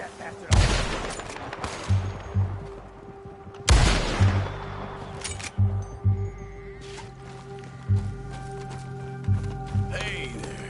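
Gunfire in the Red Dead video game, with two loud sharp shots a few seconds apart, each trailing off, followed by lighter thuds and clattering amid game ambience.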